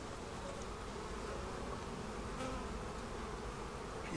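Honey bees on a hive frame hum in a dense, steady drone, close and continuous with faint passing buzzes and no speech.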